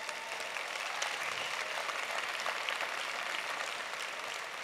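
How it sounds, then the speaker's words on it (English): Audience applause for a team at a corporate gathering, a steady even wash of many hands clapping at moderate volume, sustained throughout with no talk over it. "I want to start with giving a big round of applause for our team"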